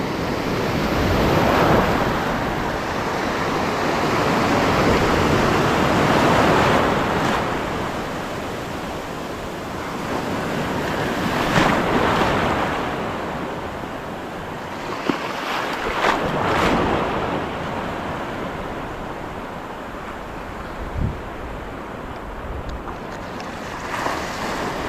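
Ocean surf rolls onto a weedy shore during shore casting in the Philippines, a steady loud wash of breaking waves with wind buffeting, swelling and receding in repeated surges, no voices.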